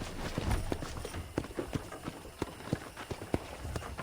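Rhythmic clip-clop of horse hooves at a trotting pace in the video game Red Dead Redemption, close and distinct, with a few faint background sounds.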